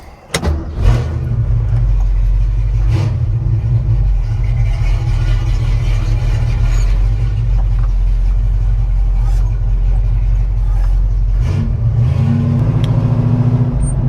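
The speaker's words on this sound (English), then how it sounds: "let's go for a little test drive" Car engine and road rumble during a test drive, a loud, steady low drone that starts after a brief quiet moment, with faint clicks and a slight rise in engine tone near the end.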